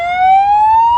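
Replacement siren fitted in a converted ex-ambulance van, sounding a single loud, steady rising wail with no talk over it.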